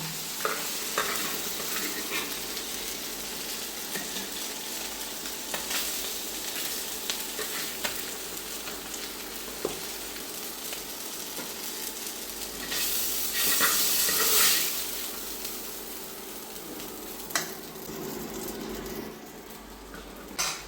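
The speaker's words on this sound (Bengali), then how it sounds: "এবার ভাজা হয়ে গেছে, এখন আমি মাছগুলি তুলে নেব।" Pomfret (poma fish) frying in oil in a frying pan, a steady broad sizzle with scattered crackles and a louder hissing burst midway, no voices.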